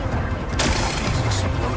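Rocks blown apart by explosives in Horizon Forbidden West: a steady rumble that bursts into a sudden loud, broad crash midway, followed by sustained crumbling debris and deep rumbling.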